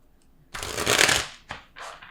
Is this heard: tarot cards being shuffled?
yes